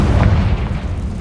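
A Confringo spell explodes in Hogwarts Legacy, a heavy low boom that rumbles for about a second with no voices over it.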